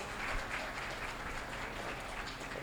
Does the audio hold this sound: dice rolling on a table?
no